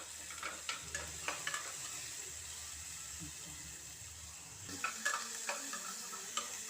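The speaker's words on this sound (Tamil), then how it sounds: "அந்த வெங்காயம் நல்லா வதங்கத்துட்டையும் வதக்கிட்டுக்கோங்க." Onions sizzle and fry in a pan while being sautéed, a steady soft hiss with a series of sharp stirring scrapes and clicks, moderately close and fairly quiet.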